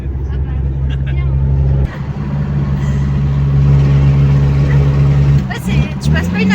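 A 1982 Toyota Cressida engine runs with a steady, loud low rumble that holds throughout, briefly dipping and then picking up again, while people talk nearby.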